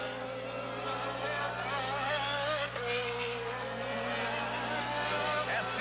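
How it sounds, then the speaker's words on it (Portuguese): Nelson Piquet's Formula 1 race car at the Brazilian Grand Prix, its engine a steady, continuous high-pitched drone with wavering pitch, heard from a distance under a broadcast commentator's talk. "você vai ouvir o ruído do carro de Nelson Piquet"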